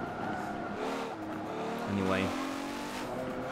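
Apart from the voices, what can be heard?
Aston Martin V12 Zagato racing with tire squeal, Forza 7 video game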